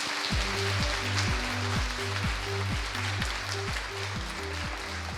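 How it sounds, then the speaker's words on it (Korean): A lecture audience at a Korean-language educators' conference applauds after a special talk, a sustained, even patter of many hands over a repeating low musical tone. "알찬 특강 준비해 주신 전우용 이사장님께 다시 한번 큰 박수 보내주시기 바랍니다"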